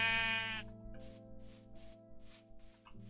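Minecraft sheep in the SevTech Ages modpack give a single nasal bleat at the start, then rhythmic soft whooshing bursts repeat over a steady low background hum.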